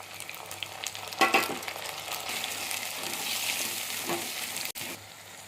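Chopped onions and three large tomatoes sizzle and fry steadily in a pan for a sardine fish curry, with a brief stirring scrape partway through and no talking.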